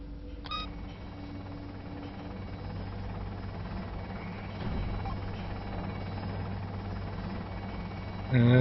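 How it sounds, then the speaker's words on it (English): A resupply helicopter arrives in the video game OVRLRD 12 with a steady low rotor drone and hum that holds throughout, thickening slightly midway, with a few faint electronic beeps and a louder burst right at the end. "We just wait for the resupply helicopter to come in."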